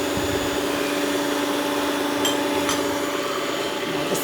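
An electric mixer whirs steadily and loudly through sponge cake batter, a constant motor drone with a couple of brief scraping clicks against the bowl.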